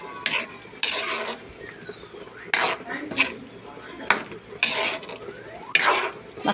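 A utensil stirs a large pot of homemade spaghetti sauce, giving repeated metallic clinks and scrapes against the pot's side in an uneven rhythm, close and fairly loud.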